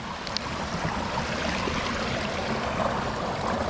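Water running steadily over gravel in a backyard pond waterfall, a constant wash of moderate loudness with no voices over it.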